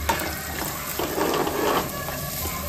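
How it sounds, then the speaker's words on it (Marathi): Chopped onion frying hard on high flame for a noodle frankie filling, giving a steady, close sizzle with light stirring scrapes throughout and no voices. "कांदा 1 मिनिट चांगलं हाय फ्लेमवर झालाय."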